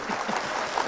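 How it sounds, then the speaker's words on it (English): Stream chat applause, a steady wash of many hands clapping at moderate level for under a second, dense and continuous with no voices. "the chat's giving you guys some claps"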